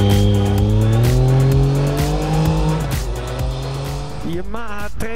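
A 2016 Yamaha MT-09 Tracer 900 motorcycle engine revs and shifts through gears, its pitch climbing then dropping, with a sharp rise near the end as it accelerates away.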